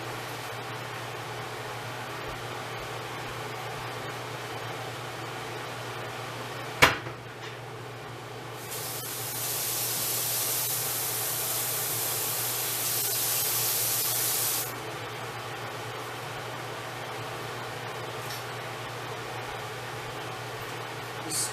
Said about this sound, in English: You spray it with some butter.